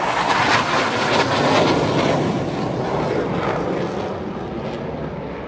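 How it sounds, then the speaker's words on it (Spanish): Military airplanes pass overhead as a loud, continuous broadband roar that swells early and then eases slightly as they move away, with wind buffeting the microphone and no talking. "Estos aviones pasan tan ligero que no me da tiempo para sacar la cámara"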